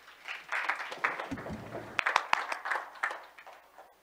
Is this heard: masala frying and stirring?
no